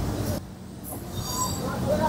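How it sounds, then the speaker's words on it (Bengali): The 12337 Shantiniketan Express pulls out of Howrah station with a continuous rail rumble and a faint high wheel squeal. The sound is heard from on board and stays steady throughout. "ট্রেনটা ছাড়ছে হাওড়া স্টেশন থেকে"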